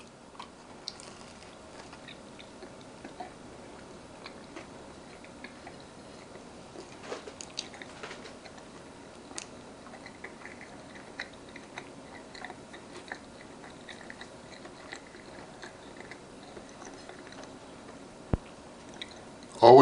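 Eating a peanut butter doughnut made in a Ninja Combi air fryer, with soft, close chewing and mouth sounds and scattered small clicks and ticks over a quiet background, no talking.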